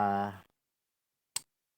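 Metal scissors give a single sharp click, close and brief, heard alone after a short stretch of speech and silence.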